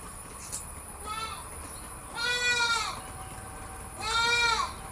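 Malabari goats, a mother with young female kids, bleat three times in drawn-out wavering calls that grow louder, over a steady background hum.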